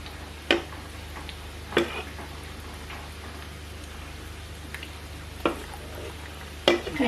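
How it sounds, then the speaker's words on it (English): Akara bean fritters frying in hot oil over medium heat, giving a soft steady sizzle with a few sharp pops and crackles spread through, fairly quiet and with no talking. "So you're going to fry it until the akara is golden brown"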